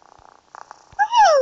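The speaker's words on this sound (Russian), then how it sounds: "Вот как она мурлычет." The cat character Talking Angela purrs in a mobile game, a short soft purr. A brief bright rising-falling cat vocal follows, close and clear.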